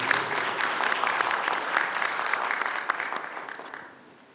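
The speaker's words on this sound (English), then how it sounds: "And a more big round of applause" A conference audience in Oman gives a sustained round of applause, dense crowd clapping that holds steady and then tapers off toward the end.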